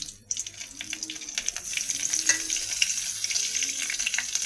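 Cumin seeds and bay leaf crackle in two spoons of hot mustard oil in a kadai, a steady close sizzle with faint popping and light stirring, no voices.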